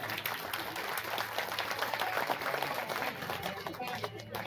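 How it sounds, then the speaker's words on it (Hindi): Audience at a Hindu religious discourse on Krishna claps for visiting devotees, a fairly faint, dense patter of many hands with some chatter underneath. "ऐसे भक्तों के लिए एक बार ताली बजनी चाहिए"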